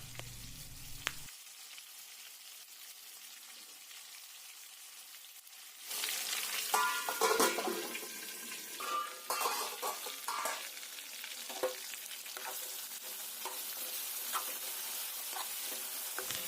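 Brinjal palya, a vegetable stir-fry, sizzling and frying in a pan on a home stove; the room is quiet at first, then a steady close sizzle starts midway with stirring scrapes and keeps going.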